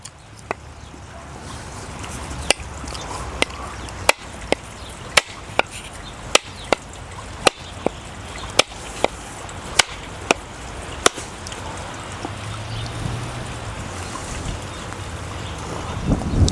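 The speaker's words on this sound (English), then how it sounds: "Now let's open a second coconut using multiple hits going around and seeing how many hits it takes" A coconut struck again and again with a fairly heavy river stone outdoors, roughly a dozen sharp, loud knocks at uneven intervals over a soft background of wind and flowing water.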